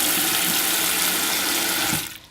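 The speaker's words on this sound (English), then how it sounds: "I'm gonna just fill that glass bowl with cold" Cold water runs from a tap into a glass bowl in a steady, loud broadband rush for about two seconds, then cuts off abruptly, leaving a few faint drips.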